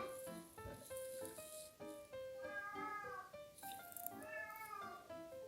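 A house cat meows repeatedly in a run of drawn-out, wavering cries, fairly close and alone, some calls rising into a plaintive caterwaul.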